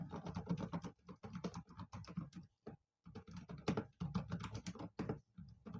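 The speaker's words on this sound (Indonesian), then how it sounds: "Ini gue ngetik ngasal aja ya." Random, uneven typing on a Keychron K8 Pro SE mechanical keyboard with retro keycaps, the keyboard raised on its tallest feet setting: dense bursts of close clacking keystrokes broken by a few short pauses, with no voices.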